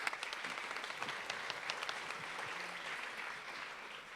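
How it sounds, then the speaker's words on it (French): An audience applauds after a reading at a literary festival café event, a sustained wash of many hands clapping at moderate distance, steady for the whole stretch. "Je crois qu'on peut l'applaudir."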